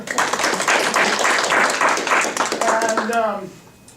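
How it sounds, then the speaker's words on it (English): A lecture-hall audience gives a round of applause, dense steady clapping filling most of the moment before it thins out, with a voice speaking over the end. "We'll give you both a round of applause right now."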